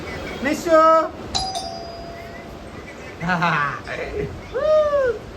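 One clear bell ding rings out and fades, surrounded by high-pitched children's voices chattering before and after it.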